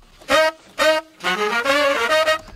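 Saxophone riff played at full speed, two short separate honks followed by a fast run of notes that blurs into a trill-like flutter, close and fairly loud with no talking.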